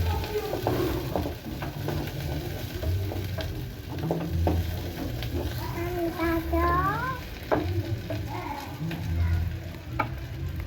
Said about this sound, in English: And then we add in our garlic and ginger.